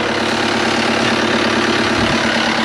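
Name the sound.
CAT 299D3 XE compact track loader engine idling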